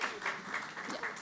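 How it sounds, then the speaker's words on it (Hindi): Audience at an indoor event with Indian online personalities clapping: faint, uneven bursts of applause that pulse a few times, with no voices over them. "आप ताली में बहुत कंजूसी कर रहे हैं।"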